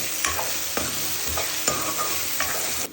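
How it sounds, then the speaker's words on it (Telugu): Curry leaves drop into hot oil in a pan while crab curry is cooked Andhra style, giving a steady sizzle and frying hiss with stirring scrapes at a regular rhythm, close up and with no talk. "దీనిలో కొంచెం కరివేపాకు వేసుకుందాం"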